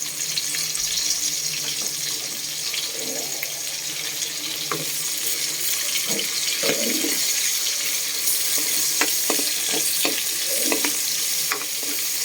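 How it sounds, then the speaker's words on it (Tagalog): Chopped onion sautéing in a pan for ginisang sitaw, a steady broadband sizzle running throughout with scattered scraping stir strokes and clinks, close and fairly loud, no talking. "Lagay na rin natin yung sibuyas mga kabuko."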